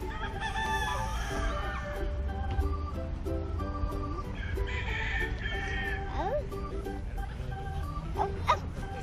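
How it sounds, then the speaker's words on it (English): Hens and roosters cluck steadily close by, with rooster crows rising through the chatter and a low rumble underneath, in a continuous farmyard din. "Hey, there's some chickens there."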